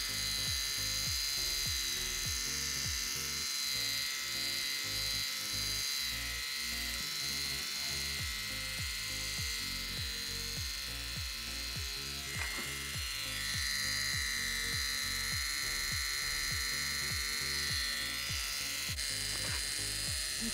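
A Micro Touch Max electric hair trimmer trimming sideburns, a steady high buzzing motor hum that runs continuously and close throughout, with slight shifts in pitch as it moves against the hair.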